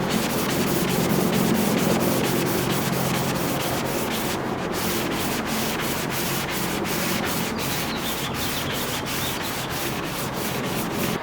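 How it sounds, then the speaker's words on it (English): A sanding block works body filler smooth on a C5 Corvette front bumper repair, giving a fast, steady rhythm of rasping back-and-forth strokes, close up and continuous with no talking. "I spent some more time with the sanding block to try and get this thing as smooth as possible"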